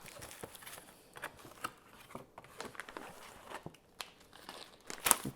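A cardboard box of rare Yemeni coffee is opened close up with soft crinkling, scraping and small tearing sounds in irregular bursts, ending in a sharper rip.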